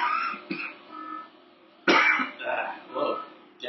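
Short bursts of a man coughing and clearing his throat, close and loud, two harsh fits separated by a pause, mixed with his own muttering.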